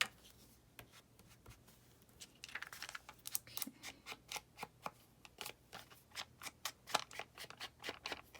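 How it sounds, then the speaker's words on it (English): Card-making materials for window cards, crafted from leftover pieces, give off soft, quiet crinkling and rustling in a stream of short, irregular bursts, close by and heard alone without any talk. "Listen to that crinkling."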